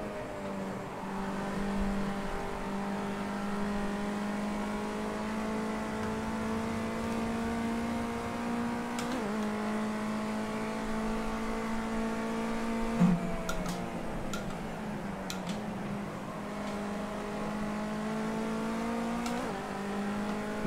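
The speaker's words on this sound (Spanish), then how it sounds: "ya escucho los motores" Race car engines in the video game Project Cars 2, a steady droning whine that climbs with rising pitch and drops sharply at gear shifts, loud and continuous with no talking.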